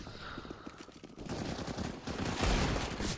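Gunfire from a tactical shooter video game: rapid automatic bursts and shots that grow louder and denser partway through, with no talk.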